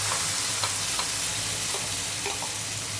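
Ground masala added to browned onions sizzles steadily in a hot pan for dal makhani, with a spoon scraping and stirring at a few irregular moments, close and continuous.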